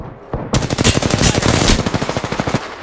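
Rapid automatic gunfire in the battle royale shooter Apex Legends, a dense, loud stream of shots with a short lead-in, then a steady pulsing burst that trails off near the end.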